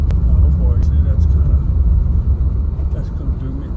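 A Toyota Corolla on the move, its engine and road noise a steady low rumble inside the cabin, loud and continuous, with a voice speaking over it.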